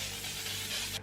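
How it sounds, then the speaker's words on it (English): A single continuous hiss of makeup setting spray misted onto a face from a partly blocked nozzle, close and steady for about a second before cutting off. "you kind of need to hold your breath as you spray this"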